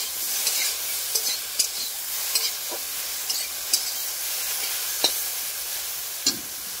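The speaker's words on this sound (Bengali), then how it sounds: "আমাদের ঢেঁড়সটা যে ভালো করে ভেজে দিচ্ছি" Okra and potatoes fry in a pan with a steady close sizzle, broken by sharp scraping stirs about every second.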